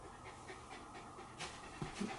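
Soft, rapid dog panting in a steady rhythm, fairly quiet and close, with a couple of slightly louder breaths near the end.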